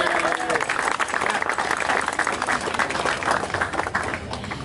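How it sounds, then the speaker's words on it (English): A crowd at an outdoor ribbon cutting for a sunset pavilion claps for the board of trustees, dense steady applause filling the whole stretch, with voices mixed in. "a little round of applause for the board of trustees"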